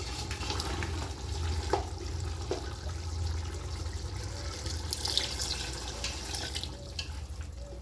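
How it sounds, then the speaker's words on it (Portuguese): Water poured from a tap or jug into a pressure-cooker pot holding beef for vaca atolada, a steady, faint, continuous splashing stream that runs alone throughout. "a gente vai colocar mais um pouquinho de água"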